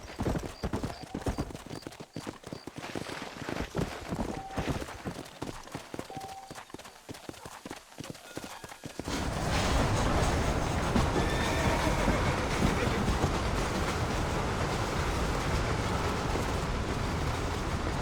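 Horse hooves clip-clop at a steady trot with a whinny or two in Red Dead Redemption, the gait under a wagon-like rumble that swells into a dense, constant rolling roar after the midpoint.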